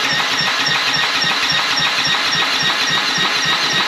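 A surging portable generator engine cranks and runs with a rough, steady mechanical clatter and fast rhythmic pulsing, close and loud throughout, with no talking.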